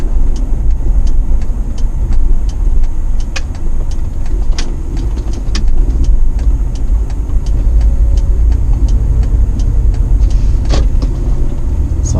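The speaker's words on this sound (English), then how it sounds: "This time I will attempt light throttle on a 360 degrees turn in a roundabout." Interior cabin sound of a Toyota Prado with an auto-locking differential driving on light throttle around a roundabout: a steady low engine and road rumble with faint ticks and creaks, with no talk.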